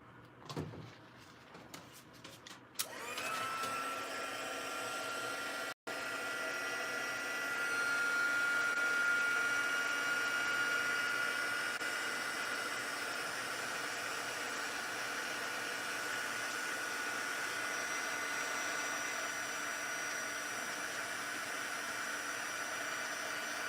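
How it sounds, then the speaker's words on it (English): An electric heat tool for melting embossing powder on a Stampin' Up Christmas card blows with a steady, fairly quiet whirring hiss that runs continuously after a few clicks and handling sounds at the start. "Bring in the heat tool."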